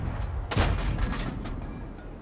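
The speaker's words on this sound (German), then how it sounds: "Der Schuss ging vorne vorbei." A tank cannon fires in World of Tanks, an M4A3E8 Thunderbolt VII, with one sharp loud blast near the start and a rumbling decay, followed by fainter distant shot echoes against a steady battle ambience.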